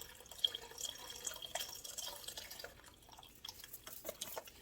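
Vegetable stock poured from a box into a soup pot, heard as faint, irregular liquid splashing and dripping close by, with no voices.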